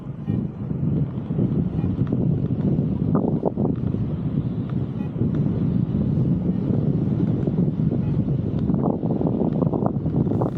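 Continuous wind rushing past during a paraglider cross-country flight, a steady broadband roar buffeting the microphone with small fluctuations and faint creaks.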